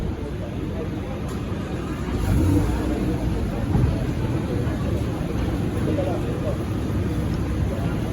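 Lamborghini sports car on a city street in BGC on a Sunday morning, a loud engine rumble that swells briefly as it passes nearby, with talk over it.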